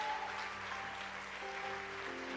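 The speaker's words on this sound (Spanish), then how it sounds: "Un aplauso a Jesús, aleluya." Church congregation applauding Jesus after a declaration of faith, a steady wash of clapping with sustained tones from music underneath, fairly quiet and continuous throughout.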